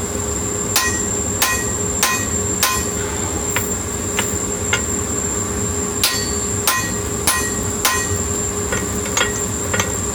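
Hand hammer blows punching an eye into a 1 3/4 inch square 1045 steel billet: sharp ringing metallic strikes at an irregular pace, loud and close, over a steady background hum, no talk.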